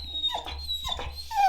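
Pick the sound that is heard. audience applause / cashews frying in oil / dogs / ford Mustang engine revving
dogs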